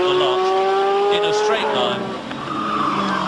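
A 1986 Formula 1 Ferrari race car with a V6 engine on track during British Grand Prix qualifying, its steady high-pitched engine drone carrying loud throughout while a commentator talks over it.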